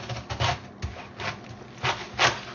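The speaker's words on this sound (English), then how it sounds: "We're going to go ahead and cut this in half to make it easier to get that stem out." A sharp knife slices a large onion in half on a cutting board for buttery cabbage, giving several separate crisp cuts with short pauses between, close and fairly quiet with no talking.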